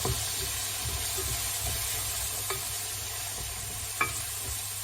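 Sweet potatoes fry in a pan with a continuous close sizzle, broken by a few light utensil taps and scrapes as they are stirred.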